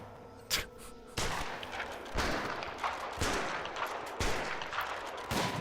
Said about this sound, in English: Okay, yeah, they're firing away. There's shots.